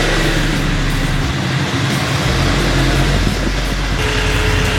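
A motorcycle pulls away from a standstill on a hill with a gentle throttle, its engine a steady, loud low drone throughout with a slight change in tone near the end.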